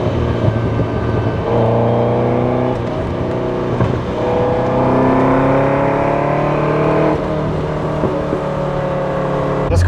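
A 1978 Ferrari 308 GTS with individual throttle bodies and EFI, driven on canyon roads, its engine note loud and close, rising and falling through several revving pulls and gear changes.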